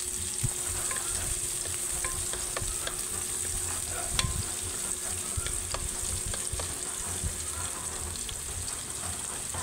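Garlic and onion sauté in hot oil with a steady crackling sizzle and occasional scraping stirs, close and even throughout.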